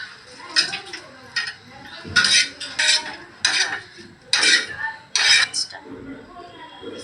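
Dried fish being roasted in a pan, with a spatula scraping and clinking against the metal in irregular bursts, close and fairly loud, with quieter pauses between strokes.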